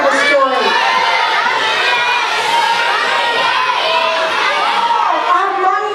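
Many children shout over one another at once, a loud, continuous crowd of young voices calling out animal guesses during a performance session.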